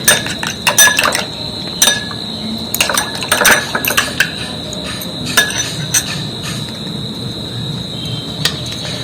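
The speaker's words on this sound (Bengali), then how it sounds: "অ্যালোভেরা জেল আর পাতার রসটা ভালো করে মিক্সড করে নেব।" A spoon clinks and scrapes against a bowl while aloe vera gel and leaf juice are mixed, giving irregular sharp taps and light stirring sounds close up over a faint hiss.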